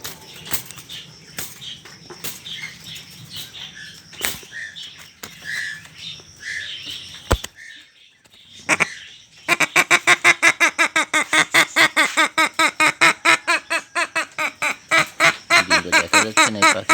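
A pair of purple swamphens at a nest with eggs in Bagerhat give harsh squawking calls, first scattered and rough, then a fast loud rhythmic series of repeated honking notes, close and with no talk.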